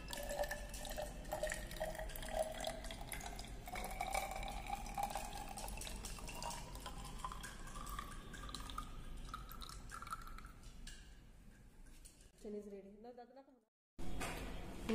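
Purified water pours and trickles steadily into a laboratory flask, the pitch rising as it fills, with faint speech underneath and a brief pause near the end.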